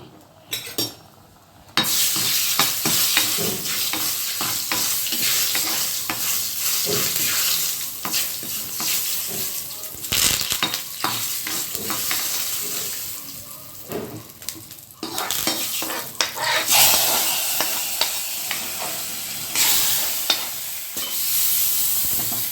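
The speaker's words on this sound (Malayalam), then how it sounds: "ഈ കടുകിൻ്റെ കൂടെ രണ്ട് വട്ടൽമുളക് പൊട്ടിച്ചിട്ടുണ്ട്" Mustard seeds and two dried red chillies crackle and splutter in hot oil for a Kerala erissery, a loud, busy sizzle with sharp pops and occasional clatter of a stirring utensil against the pan.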